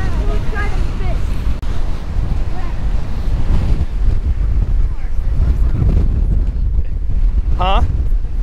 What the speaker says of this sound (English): Yeah, those are huge waves.